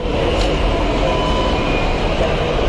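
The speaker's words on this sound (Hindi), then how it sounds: "अब अभी मैं एमजी रोड मेट्रो स्टेशन पे हूँ" Metro train at MG Road metro station, a loud, continuous rumble of rolling wheels and car noise with faint high squeals above it, steady throughout with no talking.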